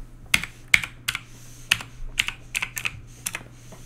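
Fingers tapping out a word on a computer keyboard, a string of sharp, distinct clicks at an irregular pace, close and clear with no voices.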